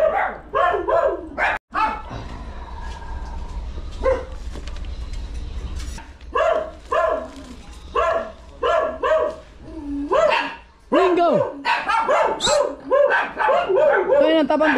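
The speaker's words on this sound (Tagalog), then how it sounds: "Tahol ka lang, tahol." A dog barks loudly and repeatedly in quick, uneven bursts near the listener, with short yips between them, while a person speaks over the barking.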